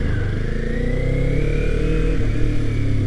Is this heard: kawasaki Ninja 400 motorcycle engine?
yes